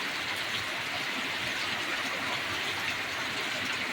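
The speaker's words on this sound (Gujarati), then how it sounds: "જોરદાર વરસાદ વરસી રહ્યો છે" Heavy downpour drumming steadily on an open farm area, a dense, even, continuous hiss of rain at constant loudness with no talk or breaks.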